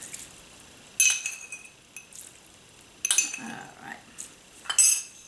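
A spoon gently folds rice wine vinegar into sushi rice in a bowl, giving soft intermittent clinks and scrapes in a few separate bursts, close by, with quiet gaps between them.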